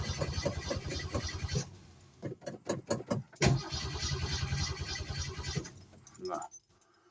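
Starter cranking on a 1965 Ford Mustang six-cylinder engine that tries to start, with a steady rhythmic churn in bursts broken by short pauses and a brief sharp clatter midway.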